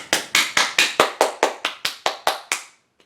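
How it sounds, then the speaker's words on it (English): A single person claps alone at a Persona 3 FES graduation ceremony, about twelve sharp, evenly spaced claps, close and clear, ending in silence. "I'll give the applause then."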